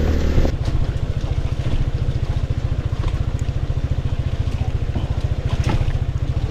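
A struggling FKM Venture 180 scooter engine chugs along on an extreme off-road trail ride, its rapid, even putter pulsing steadily and close for several seconds with light wind noise.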